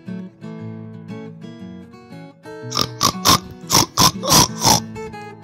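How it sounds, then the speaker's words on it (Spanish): A pig grunts and snorts in a burst of about six rough, nasal oinks, loud and close, following a stretch of quieter tonal background. "Gruñó el cerdo."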